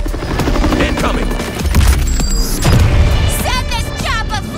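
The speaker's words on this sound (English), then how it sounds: "Send this chopper flying!" A helicopter in the video game Suicide Squad: Kill the Justice League whirs loudly amid booms and crashing combat sounds, with brief bursts of electronic effects near the end and voices in the mix.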